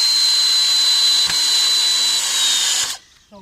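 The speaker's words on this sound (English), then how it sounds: "I'm gonna just put some some decking screws in just to hold it in place." A power drill drives decking screws into a swim raft frame with a loud, steady high-pitched whine lasting nearly three seconds, close by, then stops abruptly and leaves quiet.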